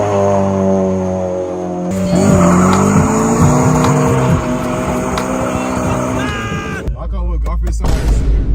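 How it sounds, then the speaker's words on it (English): A 9th gen Honda Civic does a burnout, its engine revving hard while the tires let out a loud, sustained squeal that wavers in pitch, then cuts off abruptly into a rough rumble; people talk nearby. "Y'all know Marc, he always doing burnouts."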